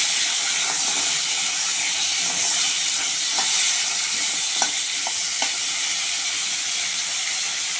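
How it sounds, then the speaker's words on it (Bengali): Crabs coated in salt and turmeric fry in hot oil in a wok, a loud, dense, continuous hiss and crackle up close, with occasional sharper pops and no voices. "এবার আমি এই যে কাঁকড়াগুলো নুন হলুদ মাখিয়ে রেখেছিলাম, কাঁকড়াগুলো ভেজে নেব।"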